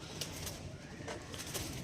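Black diamond pigeons coo softly in a loft, a low steady murmur with a few brighter call bursts over continuous background noise.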